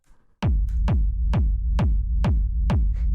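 A techno kick drum pounds through a drum bus with a transient shaper, seven punchy, evenly spaced hits with sharp clicky attacks and booming low tails, loud and alone after a faint lead-in.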